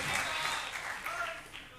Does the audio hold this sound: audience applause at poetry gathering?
yes